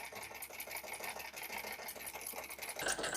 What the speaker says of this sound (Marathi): सावकाश शिलाई देऊन घ्यायची